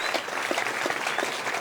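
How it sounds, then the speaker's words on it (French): Brief burst of audience applause for speakers at a round-table debate in a high school, quick scattered claps at moderate volume with no voices over it. "On peut applaudir nos intervenants du jour."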